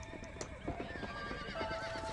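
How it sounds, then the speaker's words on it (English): A horse in Red Dead Redemption gives a faint whinny over the soft clip-clop of hooves and quiet outdoor ambience, heard without speech. "There are horses nearby."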